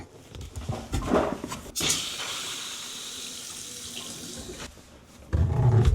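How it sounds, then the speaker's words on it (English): Water runs steadily from a newly replaced bathroom faucet once the supply valve is opened, a continuous hiss lasting several seconds between clunks and handling noises at the start and end. "So I'm going to turn the left valve on first. I hear the water."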